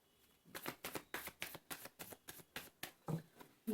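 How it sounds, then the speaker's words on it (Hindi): Tarot cards riffle-shuffled close up in about a dozen crisp, evenly spaced bursts with no talk. "this is my last shuffle"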